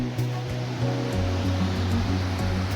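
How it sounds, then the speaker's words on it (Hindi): The Mandakini river meets the Alaknanda at the Rudraprayag confluence, a continuous broad rush of flowing water with a steady low rumble and no talking. "और ये वो सामने से जो है अलकनंदा नदी आ रही है, और ये दोनों आपस में मिलके इनका यहाँ पे संगम हो रहा है।"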